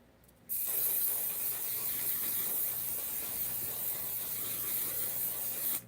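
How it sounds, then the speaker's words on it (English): Alcohol-based makeup setting spray hisses out in one steady, close burst that lasts several seconds and then cuts off sharply. "This is a setting spray with alcohol that's actually going to set your makeup."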